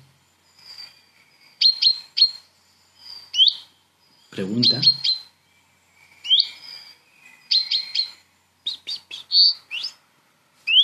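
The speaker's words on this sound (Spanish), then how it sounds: "Y ahora empieza un trino" A songbird sings repeated bright chirps and short trills in bursts, clear and fairly close, with a brief low voice speaking partway through.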